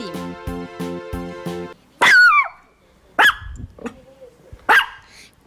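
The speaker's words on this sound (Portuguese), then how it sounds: "De um cachorro latindo." Dog barking in a few sharp separate barks, loud and close, each followed by quieter gaps, after a short musical jingle.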